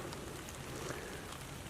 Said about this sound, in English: Starting to rain a little bit.